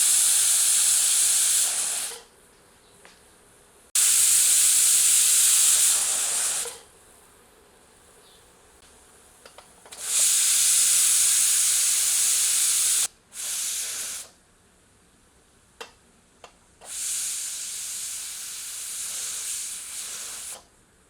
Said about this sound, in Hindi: अब इसे प्रेशर कुक करते हैं।